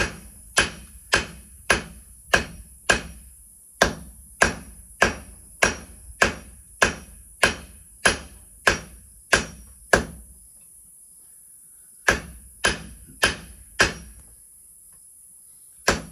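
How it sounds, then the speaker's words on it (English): Hammer blows squaring up a bar on an anvil during blacksmith forging, a steady run of sharp ringing strikes about two per second, pausing briefly near the end before a few more hits, close and alone. "I'll start squaring up the bar here"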